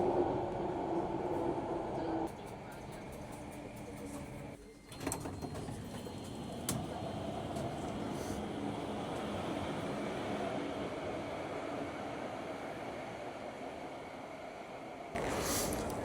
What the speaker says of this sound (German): dass wir seit 4 Stunden Straßenbahn fahren